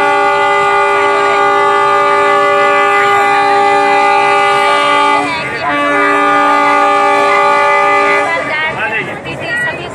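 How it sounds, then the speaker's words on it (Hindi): Ranchi-Lohardaga-Tori special passenger train running with a loud, sustained horn blast that breaks briefly midway, then resumes before fading into rumbling rail noise. "संविधान दिवस के उपलक्ष्य में स्पेशल ट्रेन चलाई जा रही है"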